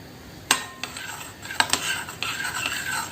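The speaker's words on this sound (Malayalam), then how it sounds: "ഇനി ഇത് നന്നായിട്ട് അങ്ങോട്ട് മിക്സ് ചെയ്തെടുക്കാം." Egg, sugar and cardamom batter whisked in a bowl with a utensil, sharp clinks against the bowl followed by quick scraping, beating strokes close up, no voices.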